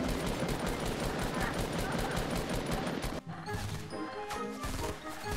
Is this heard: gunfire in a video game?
yes